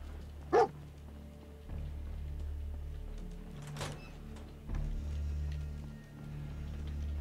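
Dog barking in Fallout 4, a few sharp single barks spaced apart over a steady low game ambience with occasional mechanical sounds.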